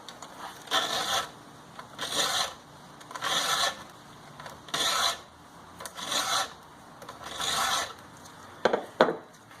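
A hand file rasps across the teeth of a Husqvarna chainsaw chain in six even, rhythmic strokes with brief pauses between, close and clear, ending with a few quick scrapes.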